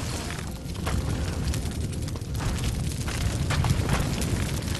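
Bombs blow up in Conan Exiles, a dense, continuous roar of overlapping explosions and rumbling debris that runs throughout without a break.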